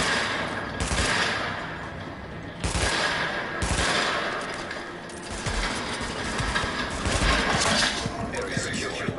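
Rapid bursts of video game gunfire aimed at headshots, loud sharp volleys in several clusters with brief pauses between, over continuous in-game ambience; a voice talks alongside the shooting.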